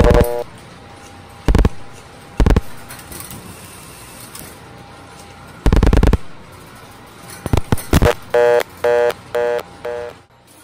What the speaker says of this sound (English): As soon as we dial the third digit